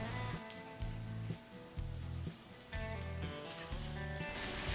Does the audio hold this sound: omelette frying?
yes